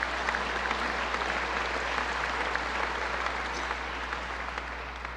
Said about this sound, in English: So let's give Stephen Rubenstein a big round of applause.